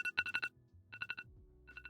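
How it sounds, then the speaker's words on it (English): A phone alarm clock ringtone, a bright electronic melody in three quick bursts of repeated tones, played softly and alone. "I've also completely abandoned my phone's alarm clock. Its jarring sound used to wake me up so abruptly"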